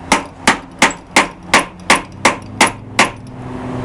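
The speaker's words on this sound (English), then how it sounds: "we take our leaf with our veins down and a ball peen hammer, put that on wood" A ball peen hammer strikes a hand-forged metal leaf resting on wood, nine sharp, evenly spaced blows about every third of a second, loud and close with short ringing decay.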